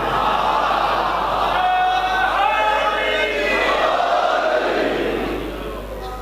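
A crowd chants the Naara-e-Haidari slogan at a Safar religious gathering in Mangwal. Many voices roar together in a loud, sustained, massed chant that holds steady and then eases off near the end.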